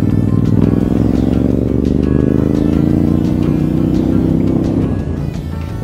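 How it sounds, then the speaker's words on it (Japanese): Ducati Monster 796 motorcycle engine running steadily and loud, a sustained low drone with a slight rise in pitch, then fading a little near the end. "この796のエンジンはですね、いい意味で程よいんですね。"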